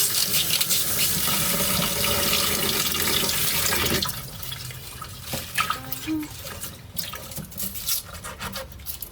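Tap water gushes loudly into a sink for a few seconds, then shuts off, leaving scattered drips and small clattering sounds.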